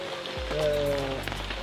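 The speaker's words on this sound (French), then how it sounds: "On nous a amené la pluie, donc il pleut." Steady rain falls on an outdoor dog-training ground, a constant hiss with a low rumble beneath, and a faint tonal hum briefly rising in the middle.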